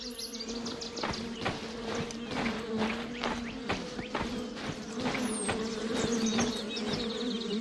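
Insect buzzing near bee hives in a video game, a steady mid-level drone overlaid with repeated sharp ticking and clopping sounds, with a faint whistling sweep partway through.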